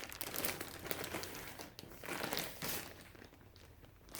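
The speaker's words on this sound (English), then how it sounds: "Sorry for the crinkling" Plastic packaging crinkles and rustles in irregular bursts close by while fabric is sorted, quiet and uneven with brief pauses and no speech.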